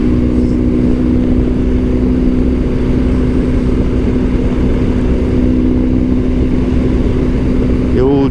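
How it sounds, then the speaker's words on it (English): A BMW R 1150 GSA motorcycle cruises at freeway speed on Lake Hughes Road, a loud, steady engine drone with a constant tone and heavy wind rush throughout, rising briefly at the very end. "The old GSA sounds like a sewing machine."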